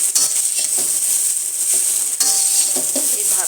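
Leftover rice and egg, seasoned with pepper and a little salt, fry in a hot pan under a constant bright sizzle, with repeated scraping stirs of a utensil against the pan close by.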